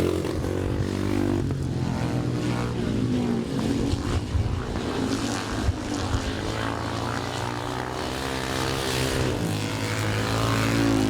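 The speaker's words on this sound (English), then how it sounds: "Into the last lap they go then for the last of these upright 2-valve pre-1990 machines" Upright two-valve pre-1990 speedway-style motorcycles racing at a grasstrack meeting at Iwade, their engines a continuous loud, droning roar with steady harmonic whine, no talk over it.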